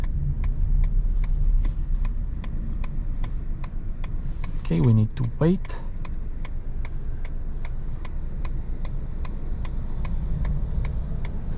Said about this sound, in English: The indicators sound quite relaxing.